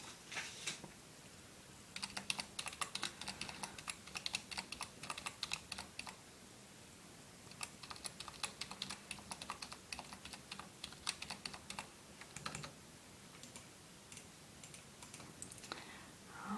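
Soft, close typing on a computer keyboard at a spa front desk, with quick irregular clusters of key clicks broken by short pauses, no talking.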